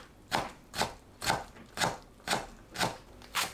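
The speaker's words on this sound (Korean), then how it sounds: "잘 익은 묵은지를 작게 썰어줍니다." Knife chopping well-aged kimchi into small pieces on a cutting board, seven evenly spaced crisp thuds about half a second apart, close and clear with no talking.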